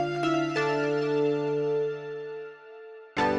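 A wavetable synth patch plays soft, sustained tones, each with a short silent gap at the waveform edges automated spectrally over time; the note holds and decays, a new note strikes near the end, and no voice is heard.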